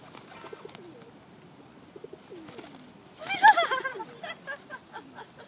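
Pigeons cooing in London during mating season, a few soft throaty coos swelling midway and repeating in a loose rhythm, close by, over low background murmur.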